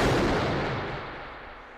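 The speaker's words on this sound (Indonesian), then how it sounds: "Luther menembakkan pistolnya ke arah Cyrus" A pistol shot in a New York gang crime film lands as one loud, broadband burst at the very start, followed by a long reverberant tail that decays slowly over nearly two seconds, with no voices.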